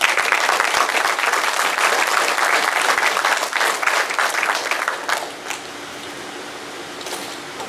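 A banquet audience claps for high school Hall of Fame inductees, loud and dense for about five seconds before thinning to scattered claps and quiet room noise.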